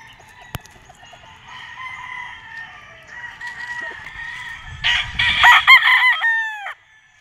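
A white Kelso gamefowl bull stag crows several times close by at a game farm, with faint clucking and low farm noise beneath the calls and no voices.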